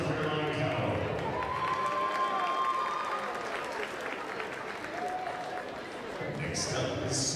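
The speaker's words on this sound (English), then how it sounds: "Big round of applause for Caroline Cow" Applause from a crowd in a high school gym during senior recognition at a basketball game, moderate clapping with a few cheers, sneaker squeaks and chatter mixed in.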